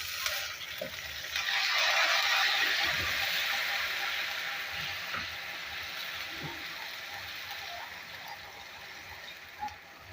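Water poured into a pan of frying garlic, ginger and onion masala for moong dal palak sets off a loud hissing sizzle that swells within a couple of seconds, then slowly eases to a steady simmering crackle.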